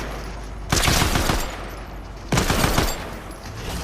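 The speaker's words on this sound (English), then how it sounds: "If we can hip fire with the assault rifle whilst in the air" Assault rifle hip-fired in Fortnite, two loud sustained bursts of rapid automatic gunfire separated by a short pause, with no speech.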